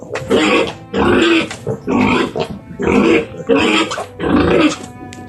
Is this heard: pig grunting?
yes